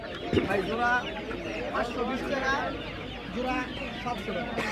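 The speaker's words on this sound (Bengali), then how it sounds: "মাশাআল্লাহ অনেক সুন্দর সুন্দর মুরগি আছে, দেশি মুরগি" Desi and Fayoumi chickens cluck repeatedly amid a busy, noisy village market in Bangladesh with people talking throughout.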